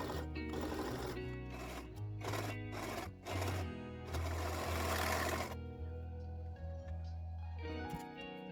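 Sewing machine overlocking the seam of a raglan dress, running in bursts of fast, buzzing stitching with short pauses, then a longer steady run before it stops.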